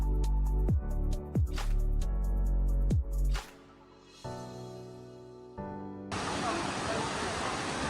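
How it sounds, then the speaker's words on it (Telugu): The Jalatarangini waterfall at Maredumilli breaks in as a loud, broad roar of rushing water in the final seconds, following a stretch of tonal, voice-like sounds that start and stop. "సో ఇదే జలాంతర్గని వాటర్ ఫాల్స్."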